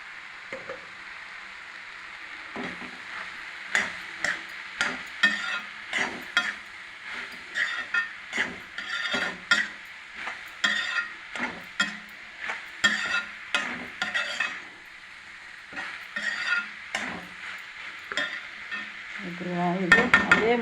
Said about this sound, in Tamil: அப்படியே கூட வதக்கலாம்